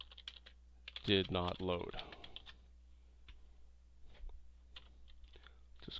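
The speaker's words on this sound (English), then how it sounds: "So I'll type in the exception text" Typing on a computer keyboard sounds as soft, scattered key clicks, near and fairly quiet, with a short spoken phrase partway through.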